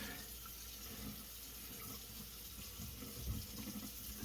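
Steady running water from a kitchen tap rinsing off bacon, a soft continuous splashing stream that stays even throughout with a slight thicker splash near the end.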